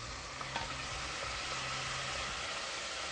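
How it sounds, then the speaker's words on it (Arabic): Chopped tomatoes fry in a pan over garlic, giving a steady, dense sizzle with small crackles throughout and a faint low hum beneath, no voices. "تتقلى"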